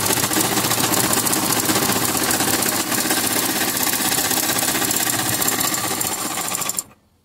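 A sewing machine runs steadily while stitching a straight seam in fabric, a dense continuous mechanical whir at close range that cuts off abruptly near the end.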